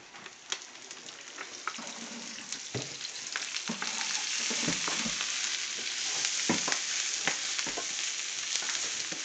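Carrots fry in oil on a stovetop for shepherd's pie, giving a steady broadband sizzle with scattered sharp crackles and pops, close and fairly quiet, and no voices.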